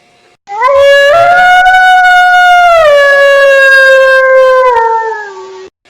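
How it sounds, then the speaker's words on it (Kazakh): A single cartoon-style wolf howl rises, holds a long steady tone and then slides down and fades, loud and close, with nothing else heard. "қасқыр,"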